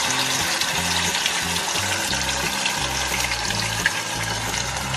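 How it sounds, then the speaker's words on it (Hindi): Stuffed paneer coated in slurry frying in hot oil in a pan, giving a dense, steady, close sizzle and crackle that continues throughout with no talking. "अब इसमें हम पनीर को फ्राई करेंगे।"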